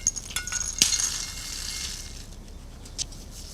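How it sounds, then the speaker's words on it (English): Pumpkin seeds toasting in a dry pan give a few sharp, light pops and clinks, with one distinct crack near the start and scattered faint ticks afterward, close and otherwise quiet. "I'm going to give myself the pleasure of a few more pops, and then I'm going to shake them out into a pan to cool."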